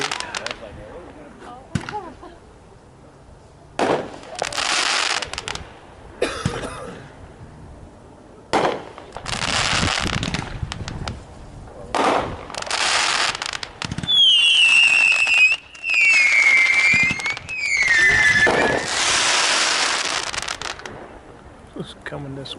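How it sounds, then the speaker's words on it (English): Fmj Blast consumer firework display at a demo night in Kansas: a rapid string of sharp bangs and crackles, some whistling shells rising, loud and outdoors over roughly twenty seconds, with occasional voices in between. "that was Fmj Blast with a duration of 44 seconds"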